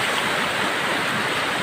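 A river waterfall pours with a dense, steady roar of rushing water, loud and unbroken from start to finish, with no talking.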